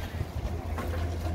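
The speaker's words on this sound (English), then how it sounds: "It's quite windy." Gusty wind at an outdoor crochet market, a steady low rumble buffeting the microphone close up, with no talking.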